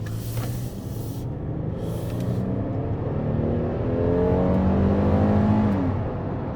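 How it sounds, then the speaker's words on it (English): A 2022 Kia Telluride SX AWD pulls away under acceleration, its engine note climbing steadily through rising harmonics over a constant road and wind hiss, heard from inside the cabin with no talking. "The acceleration of this vehicle is good."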